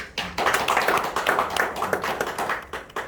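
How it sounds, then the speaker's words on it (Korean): A seminar audience claps for a company president, a lively rush of clapping that starts abruptly and continues briskly for about three seconds with a rhythmic, slightly uneven texture. "여러분들 우리 나정원 사장님한테 큰 박수 한번 쳐주세요"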